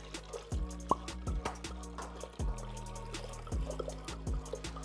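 Rosé wine from two 750 ml bottles pours into a mixing container, giving a run of liquid glugs, drips and plops in uneven bursts, close and moderately quiet.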